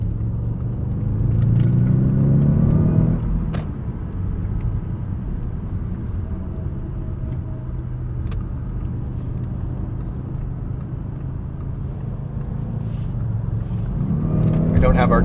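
A 2017 Audi S8 Plus cruises a highway in traffic, its engine and road noise forming a steady low rumble inside the cabin, with rising acceleration swells at the start and end and brief taps between.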